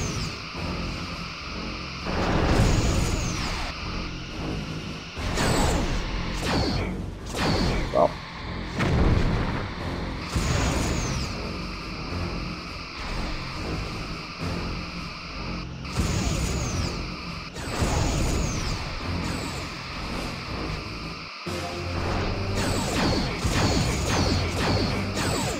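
Torpedo launches and starship weapons fire in Star Trek: Bridge Commander, loud repeated blasts and crashing impacts over a constant hum of engines and effects, with whooshing bursts spread across the whole stretch.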